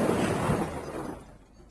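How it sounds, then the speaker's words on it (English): A car hits a parked car at 30 miles an hour in a loud, sudden impact with crunching metal and shattering glass that quickly fades away. "This is the sound of a car crashing into a parked car at 30 miles an hour."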